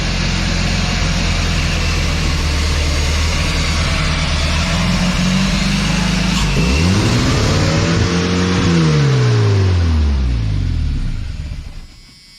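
A junkyard Chevy S10 pickup engine with its throttle stuck wide open, roaring loud and steady before the revs surge and then sweep down, rumbling close with no talk over it.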